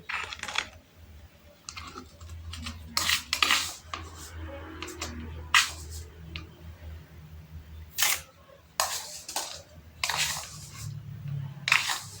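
Short clinks and scrapes of a spoon against a glass repeat irregularly as salt is spooned into the glass, close by, over a low background hum.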